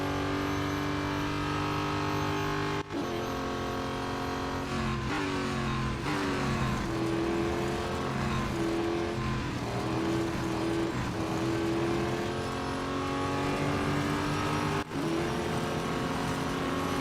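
Race cars in the mobile racing game Real Racing 3, with loud engine drones rising and falling through gear shifts and a pair of sharp gear changes, continuous for the whole stretch.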